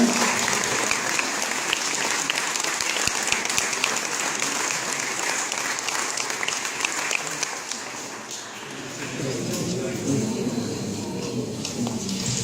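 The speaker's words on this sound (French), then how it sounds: "on peut l'applaudir le temps qu'il traverse" Applause from a ceremony audience as an award recipient crosses the room, with sustained dense clapping that thins slightly near the end while faint voices rise underneath.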